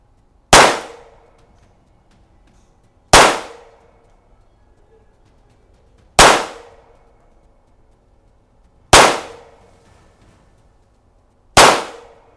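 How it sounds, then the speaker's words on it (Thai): Ruger Mark IV Target pistol fired at a shooting range: five sharp, loud single shots spaced a few seconds apart, each with a brief ringing decay and quiet in between. "เริ่มยิง"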